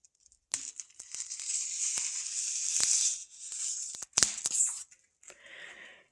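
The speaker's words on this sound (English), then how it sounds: "the last thing to do is take off the plastic on the front" Protective plastic film is peeled off the front of a newly installed headlight on a '95 Dodge Ram 1500, a close crackling, tearing rustle with a few sharp snaps as it comes free.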